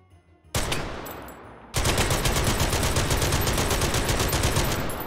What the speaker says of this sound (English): this is a full auto machine gun. It's just going to spit bullets all over the place